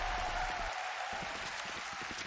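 A crowd at a Valorant Champions Tour esports match between Paper Rex and OPTIC applauding and cheering, a loud continuous wash of clapping that fades slightly toward the end.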